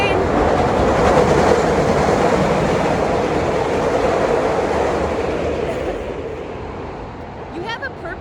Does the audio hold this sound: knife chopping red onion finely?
no